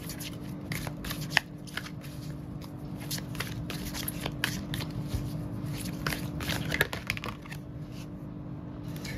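Tarot cards shuffled by hand in a steady stream of crisp riffling flicks and slaps, close and continuous for several seconds.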